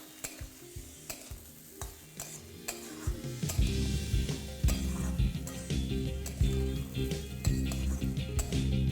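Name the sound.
tomatoes stirred into sizzling moong dal in a pan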